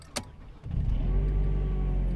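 A Mercedes W203 C-Class with a newly replaced alternator cranks briefly and its engine catches, rising into a loud, steady idle heard up close.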